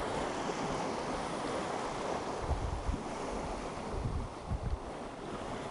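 Ocean surf breaking on a Florida beach, a steady broadband wash of waves with wind buffeting the microphone and a few louder low thumps, no voices.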